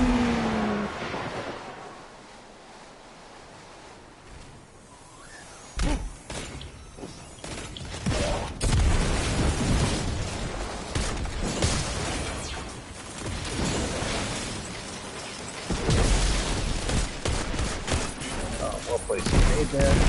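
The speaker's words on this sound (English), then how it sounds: "well placed grenade there." Grenade explosions and gunfire in the video game Destiny, several loud bursts and rattling shots breaking over engine-like rumble, with a voice talking throughout.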